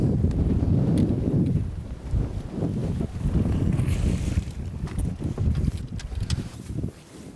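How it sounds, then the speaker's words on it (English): Strong wind buffets a fishing boat out on a lake in Texas, a steady loud low roar of gusts and microphone rumble with water slapping, continuous for the whole stretch with no voices. "We have had about enough fighting this wind."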